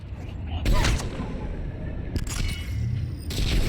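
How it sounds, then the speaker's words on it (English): Anti-tank rifle fire in the video game Mass Effect 3: a couple of sharp, loud broadband gunshot cracks roughly two seconds apart, set against steady game noise and a dense mix of combat sound. "And this is where I shoot a ninja with an anti-tank rifle"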